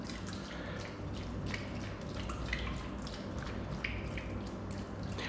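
Water trickles and drips into a natural casing as a butcher prepares to stuff bratwurst, a soft continuous splashing with small squishy sounds close by.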